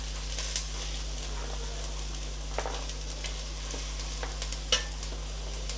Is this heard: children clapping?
no